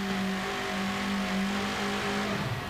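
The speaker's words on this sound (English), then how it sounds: "the sound I was talking about is from a 180-degree crank" A Ford-powered pulling tractor engine with a 180-degree crank revs steadily at an event in Owensboro, Kentucky, a loud, continuous harmonic drone that holds its pitch before dipping slightly at the end.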